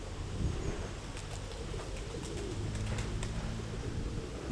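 A pigeon coos softly outdoors over a constant wash of wind noise, a few low calls close by.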